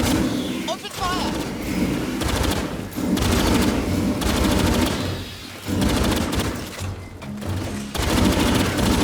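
Gunfire from the video game Aliens: Fireteam Elite 2, loud and dense, with bursts of automatic fire coming in blocks across the clip amid battle noise and shouting voices.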